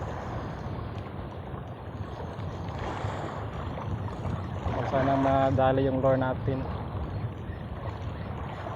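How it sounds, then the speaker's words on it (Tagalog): Wind buffets the microphone in a steady rushing roar while someone fishes from a boat near rocks, with someone talking over it partway through. "Medyo mahangin"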